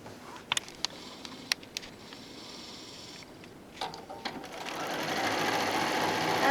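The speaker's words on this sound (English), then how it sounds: "And again, just going to sew" A sewing machine stitching across a quilted cosmetic bag, opening with a few clicks and short bursts, then settling into a steady rising whir of fast stitching close by, without talk.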